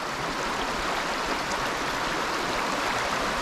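Creek water flowing steadily nearby, an even, unbroken rushing wash with no talking.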